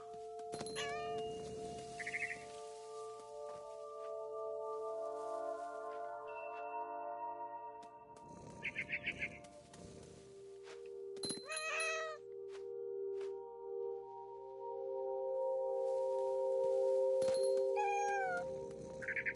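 In the game What Remains of Edith Finch, a cat gives several clear meows and drawn-out yowls at intervals over sustained tonal music and scattered chiming effects.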